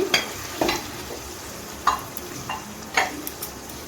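Fried paneer and eggplant go into a simmering gravy and are stirred, giving a soft, steady bubbling sizzle punctuated by a few close spoon clinks and scrapes.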